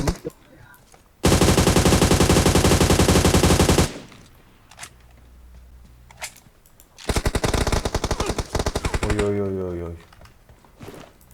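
Loud automatic gunfire from PUBG Mobile erupts in two long sustained bursts, with a quieter stretch between where a few isolated shots sound, and someone talks over the game audio.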